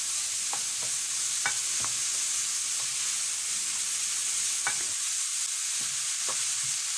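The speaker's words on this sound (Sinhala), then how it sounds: "ඒ අතරතුර අනිත් ඒවත් මේ විදිහට එහෙට මෙහෙට පෙරලමින් ටෙම්පරාදු" Vegetables tempering in a frying pan for rice noodles with egg, a steady close hiss of frying broken by occasional scrapes and taps as they are turned and stirred.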